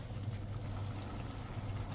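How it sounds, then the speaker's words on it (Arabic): Water is poured into a cooking pot of meat on the stove as a faint, steady, unbroken stream lasting the whole moment, with no talking. "ممكن نحط شوية مية."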